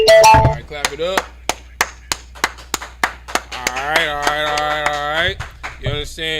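Audience at an Israelite School of Universal Practical Knowledge gathering in Houston claps in sharp, evenly spaced beats, then breaks into sustained chanting and voices that carry under and between the claps.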